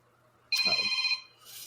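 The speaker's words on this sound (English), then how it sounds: "That's not the same ringtone, but it's close." An electronic phone ringtone close to the one from the show 24 rings in one steady burst of just over half a second, loud and alone, then a faint hiss lingers.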